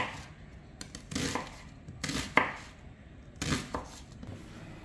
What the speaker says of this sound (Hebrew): בצל אנחנו חותכים ככה לרבע,